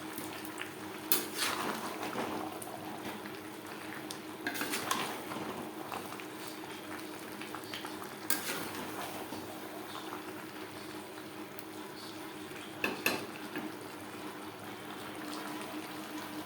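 Chicken and potatoes for an aloo chicken curry are stirred in a pan over a high gas flame, with a steady sizzle and a few sharp spatula scrapes and clinks against the pan at intervals.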